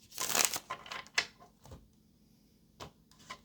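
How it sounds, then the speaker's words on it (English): Brisk papery riffling bursts of tarot cards being shuffled, loudest at the start, then a few softer flicks and taps separated by quiet gaps. "let's go ahead and get this last shuffle in."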